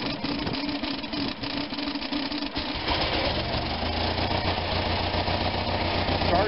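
An Onan engine, just given a carburetor rebuild and with oil blown into its cylinders, turns over and then catches, settling into a steady, close, low-pitched idle rumble with no talking.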